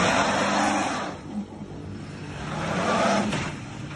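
A pickup truck engine revving while being shifted into four-wheel drive, the rev rising, dipping briefly, then swelling again, fairly close and loud.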